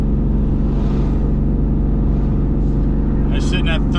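A Ram 3500 dually pickup tows a CAT 310 excavator up a steep grade near 3,000 RPM, its engine a loud, constant droning rumble heard from inside the cab, with a brief higher rattle near the end.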